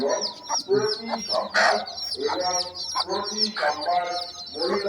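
A brooding hen on a Bangladeshi village farm clucks close by in repeated, rhythmic bursts that fill the whole stretch, with other fowl sounds mixed in.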